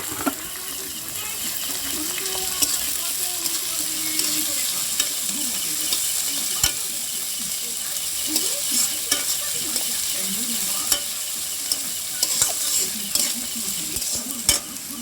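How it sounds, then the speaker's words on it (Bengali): Chopped onion and ginger fry together in hot oil in a pan, a continuous bright sizzle broken by scraping stirs and occasional clinks of the spoon against metal, close and steady throughout. "সেই পেঁয়াজ কুচানোগুলো দিয়ে দিচ্ছি তারপরে দিয়ে দিচ্ছি আদা কুচানোগুলো একসাথেই সবগুলো দিয়ে দিচ্ছি এবারে আমি ভালো করে নেড়ে নেবো"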